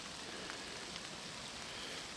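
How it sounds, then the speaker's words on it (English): Steady rain falls outdoors during marten trapping in the woods, a dense, even patter close by with no pauses and no voices. "Rain's picking up."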